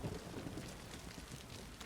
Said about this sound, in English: At least it rained.